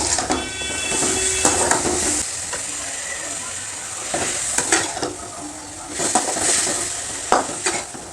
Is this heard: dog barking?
no